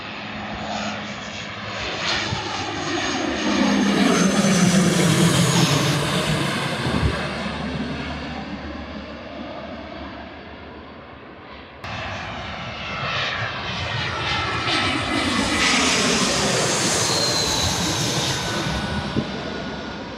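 A propeller aircraft drones overhead, growing louder then fading, then swelling again, its pitch sliding as it passes back and forth.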